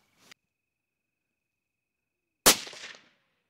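A single rifle shot during a hunting session, a sharp loud crack with a brief ringing decay, preceded by a faint small click in near silence.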